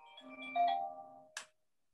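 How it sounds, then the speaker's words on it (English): Mobile phone ringtone going off in a church during a sermon: a short melodic electronic ring with layered tones, then a brief bright burst before it cuts off, moderately loud in a quiet room. "I thought I heard something, but somebody's phone going off."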